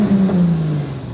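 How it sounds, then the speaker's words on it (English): A drift car with a fruity aftermarket exhaust revs hard at an Irish car meet, a loud, close engine roar that rises and then sags back over about a second, with no talk over it. "Give it a rev."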